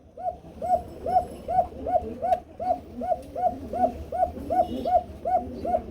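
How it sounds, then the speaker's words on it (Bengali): Pigeons coo repeatedly at close range, a regular run of soft rounded calls overlapping from more than one bird, with faint background noise and no talking. "কবুতর ডাকবে না কেন?"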